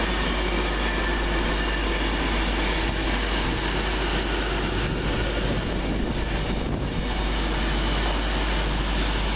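Virgin train at Warrington station, a service from Manchester Piccadilly to London Euston via Stoke-on-Trent, rumbles steadily and loudly close by for the whole stretch, with no voices over it.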